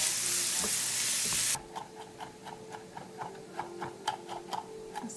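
Onion sizzles in a frying pan, starting as a loud, steady hiss. After a sudden drop the sizzle quiets, and rhythmic scraping and stirring ticks continue close by.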